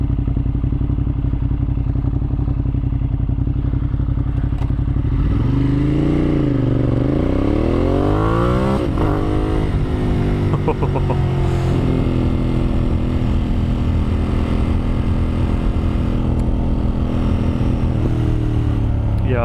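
Motorcycle ridden on a road, heard close: a steady engine drone swells into a strong climbing rev, then settles back to a steady cruising hum.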